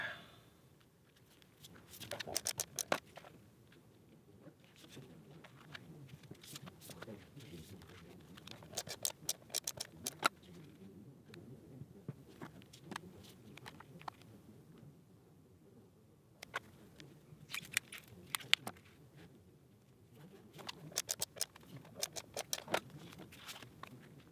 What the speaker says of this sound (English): I'll get my trimmer out and we will trim these up